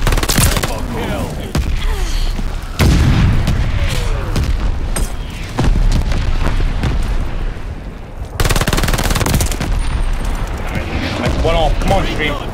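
Mortar barrage explosions boom in Call of Duty Vanguard amid constant loud, close gunfire, with heavy blasts recurring every few seconds and voices talking over the battle.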